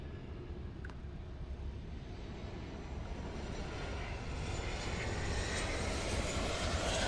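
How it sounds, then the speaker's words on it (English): An American Airlines Boeing 737-800 arriving at Miami International Airport, its engines a broad steady roar that grows gradually louder and closer over several seconds, with no voices. "that right there was American Airlines 2494"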